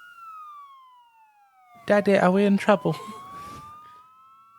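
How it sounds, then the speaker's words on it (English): An American police siren wails in a slow descending then rising sweep, clear and steady, while a voice speaks over it briefly. "Those are American sirens."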